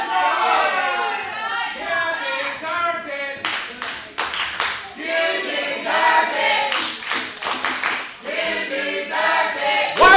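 A crowd at a pro wrestling event claps in bursts of sharp, fast applause, loud and near, mixed with excited voices and shouting.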